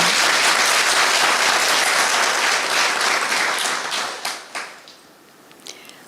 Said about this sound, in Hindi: जोर से ताली बजा सकते अपनी